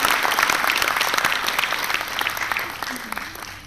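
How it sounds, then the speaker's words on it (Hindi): Continuous applause from a crowd, dense and steady throughout, with no voices standing out. "तो एक बार जोरदार तालियों के साथ उनका स्वागत करते हैं।"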